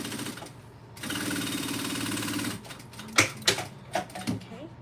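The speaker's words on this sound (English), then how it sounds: "now I'm going to do a top stitch through here" A sewing machine top stitches a circle bag in a steady whirring run of about a second and a half, close up, followed by several sharp clicks and knocks of handling the machine and fabric.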